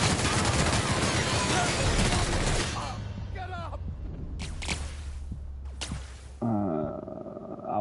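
Gunfire in The Outer Worlds, a loud sustained burst of rapid shots that gives way to a few sharp separate cracks and game sounds, with a voice speaking at moments.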